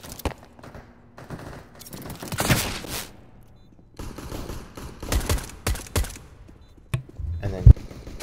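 Gunshots ring out in a competitive shooter match as missed shots fly, sharp cracks and short rapid bursts scattered unevenly across the moment, loud and close, with a voice talking between them.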